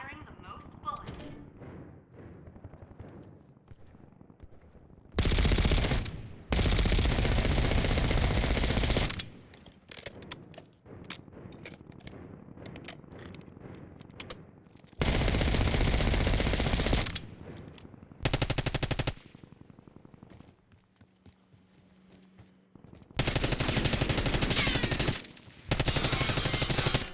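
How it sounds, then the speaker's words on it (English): Gunfire in a shooting video game objective round, with long loud bursts of rapid automatic fire broken by quieter stretches of sparse shots and background noise. "Qualify for the next round by firing the most bullets."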